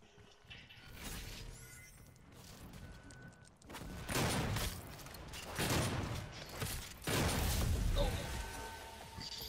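Video game gunfire in Doom's open beta multiplayer, bursts of loud shotgun and weapon blasts with crashing impacts in several heavy waves, playing under game sound effects.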